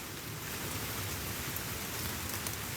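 Dense, even rain pours down steadily on Mount Salak, a constant close hiss of drops with no voices.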